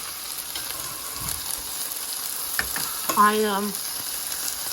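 Meat patties frying in a pan, a steady close sizzle running throughout, with a brief spoken word partway through.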